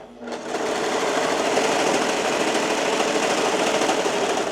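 A sewing machine stitches bikini fabric in one steady, continuous run after a brief quiet start, its fast, even mechanical whir close and loud throughout.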